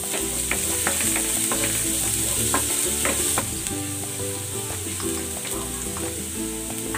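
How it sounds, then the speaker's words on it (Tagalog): Garlic sizzles in hot cooking oil in a pan, a steady bright frying hiss running the whole time with scattered spatter pops and faint clinks, loud and close, with low musical tones beneath and no talking. "Lalagay ako ng cooking oil. Igigisa ko na tong bawang."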